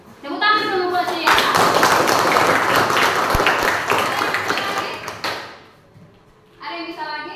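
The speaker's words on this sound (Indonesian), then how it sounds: "Tepuk tangan dulu buat saya." Classroom applause from a group of students, a dense burst of clapping lasting several seconds between bits of a voice at the start and end.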